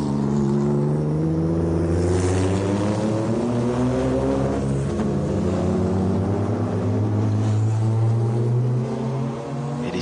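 A Courage prototype race car with a Chevrolet engine at the 1995 Le Mans 24 Hours is being restarted after trouble, its engine droning loudly and steadily with a rich, buzzing tone and slight shifts in pitch throughout.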